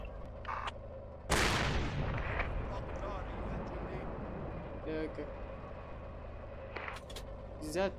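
In the military shooter game Project Reality, one heavy, loud blast of gunfire goes off and rolls into a long, booming rumble, with a few faint clicks afterwards and voices chattering over the top.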